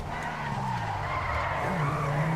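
A car drifting in GTA 5 gives a steady, loud tire skid that squeals continuously for the whole stretch, with a low engine drone underneath and no talk.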